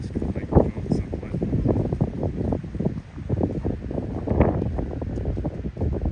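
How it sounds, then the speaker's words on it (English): Strong outdoor wind buffets a microphone during a walk from Venice to Santa Monica, a continuous loud rumbling roar with gusty surges throughout. "It is definitely windy."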